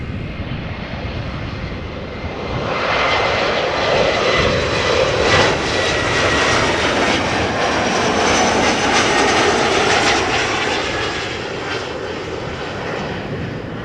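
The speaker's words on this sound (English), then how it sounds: "This is an Embraer 175 arriving from Darlington." An Embraer 175 jet airliner arrives on approach at Amsterdam, its engine roar swelling steadily from a distance and holding loud and broad, with no talk over it.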